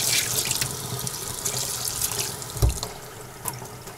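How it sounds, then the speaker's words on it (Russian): A kitchen tap runs steadily in a house built in a forest, a continuous close hiss of water with small splashes and one low knock partway through. "А теперь есть вода на кухне."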